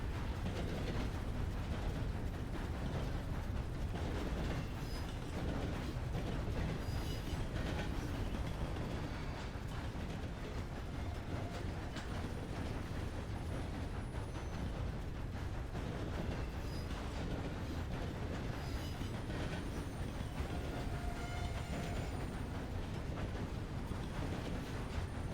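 Train wheels run steadily over rails in the Sundown RP game, a continuous dense rumble with faint clickety-clack and occasional squeal, loud and unbroken throughout.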